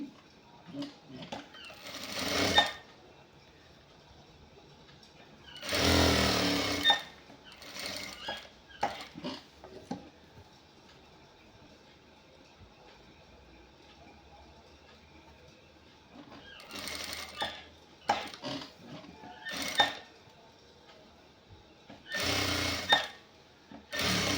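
A sewing machine stitches a checked shirt in several bursts of rapid mechanical whirring, some longer and some brief, separated by quiet gaps with faint handling sounds, close by.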